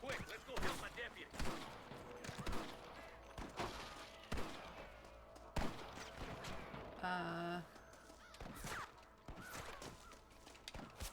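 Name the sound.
gunshots in the video game Red Dead Redemption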